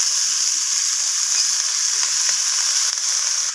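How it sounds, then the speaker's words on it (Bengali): Cabbage sizzling steadily in hot oil with panch phoron tempering for a Kashmiri-style cabbage ghonto, a close, continuous frying hiss broken by soft scrapes as it is stirred in the pan. "বাঁধাকপিটাকে আমি ফোড়নের সাথে এইভাবে নাড়াচাড়া করে নিচ্ছি"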